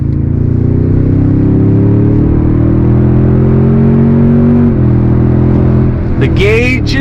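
A 2023 Toyota Tundra TRD Pro truck accelerating on throttle, its engine a loud, steady drone heard from inside the cab that climbs gradually in pitch over several seconds.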